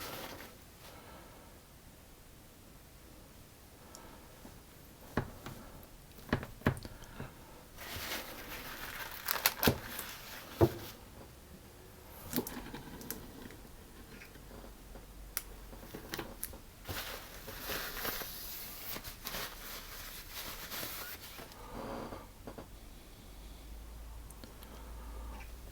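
A knife cuts through Nanaimo bars with chocolate on top that has not fully set. Faint, irregular crackly scrapes and soft crunching sounds come in bursts over a quiet background, with a few sharper clicks in between.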